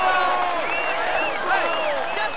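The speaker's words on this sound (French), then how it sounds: "Allez, on l'applaudit encore" Crowd at a Tour de France 2015 mountain stage finish at La Pierre Saint Martin applauds FDJ cyclist Thibaut Pinot, a steady wash of clapping and cheering heard under a commentator's voice.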